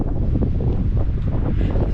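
Wind picking up on Acatenango mountain in Guatemala, a loud steady rumbling gust buffeting the microphone throughout, with no voices.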